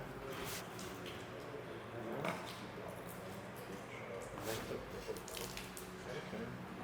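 Water runs steadily from a hose reconnected during a backflow preventer test, a continuous broadband rush with small splashes and surges, fairly close, with no talk over it.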